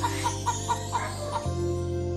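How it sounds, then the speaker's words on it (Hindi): A cartoon rooster in a Hindi children's story, a series of about six short clucks over a steady background music bed, ending as the music shifts. "उन्होंने एक बड़ा बलवान और सुंदर मुर्गा देखा।"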